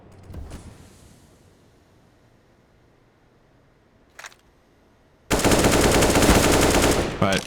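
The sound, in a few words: AK rifle gunfire in Counter-Strike video game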